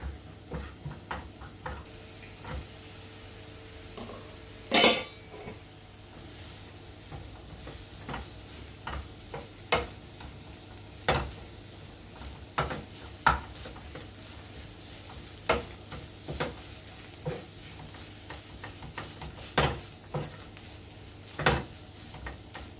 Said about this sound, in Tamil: சால்ட்டு அப்புறம் கொஞ்சம் பெப்பர் இதில் போட்டு நல்லா வதக்கிட்டு கூடவே ரைஸும் போட்டு கிளறி வச்சுருவேன்